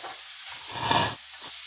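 Chicken pieces sizzling in hot oil for a roast, stirred and tossed in the pan, with a steady hiss that swells briefly in the middle of the short stretch.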